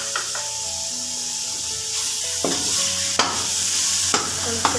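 Vegetables stir-fried in a pan while making bhujia, a steady sizzle under spoon scrapes and stirring knocks, with a few sharp clatters near the end.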